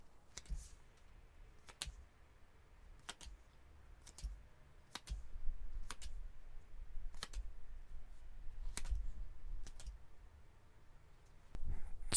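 Tarot cards snapped and laid down one by one in a quiet room, a sharp card slap every second or so over a faint low murmur, with no talking.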